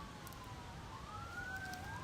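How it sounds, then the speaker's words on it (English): Emergency vehicle sirens wail faintly in the distance, two overlapping tones slowly rising and falling over steady background noise. "And there's more sirens."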